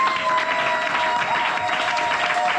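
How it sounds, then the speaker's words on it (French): Church congregation applauding the mothers during a French-language service, a steady dense wash of clapping from many hands, loud and continuous throughout. "Est-ce que vous pouvez acclamer les mamans seulement?"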